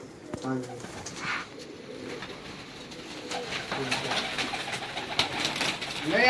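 Pigeons of prized breeds kept by a fancier coo softly now and then, faint against steady outdoor background noise, with voices murmuring nearby.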